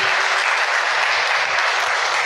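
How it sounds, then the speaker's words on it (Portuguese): Dense, steady applause from a church congregation during a service, loud and continuous for a couple of seconds with no voices over it. "Vamos aplaudir o nosso Deus."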